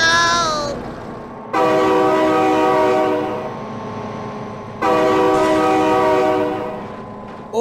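A train in the BeamNG Drive video game sounds its horn in loud, sustained chord blasts, two long honks separated by a quieter stretch of passing rail rumble.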